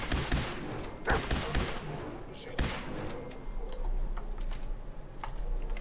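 Automated turret fire in Fallout 4, triggered by walking beneath it: several sharp ticking bursts in the middle distance, spaced a second or so apart, over low game ambience.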